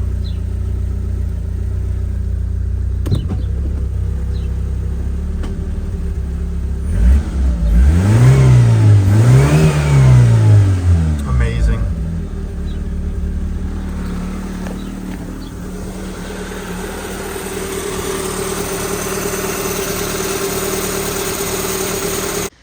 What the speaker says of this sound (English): That idle's so smooth.